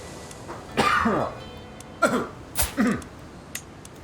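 Throat clearing and coughing from a man playing Crusader Kings III: several short, harsh bursts, a pair early and a cluster near the end, close and moderately loud with no talk.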